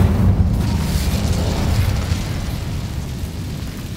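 An Incendio fire spell bursts in Hogwarts Legacy with a loud, close, deep whoosh and boom that rumbles and slowly fades over a few seconds.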